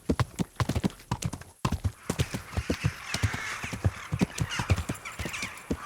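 Horse hooves clip-clop in a steady, brisk rhythm through Kingdom Come: Deliverance, fairly close and loud, with a brief pause before the gait resumes amid light outdoor ambience; a faint whinny may surface near the end.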